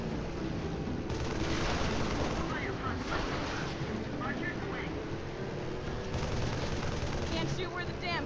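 Rapid turret gunfire in the Halo 3 video game during a Flood battle, a dense continuous rattle of automatic shots mixed with vehicle and battle noise, steady and loud across the whole stretch.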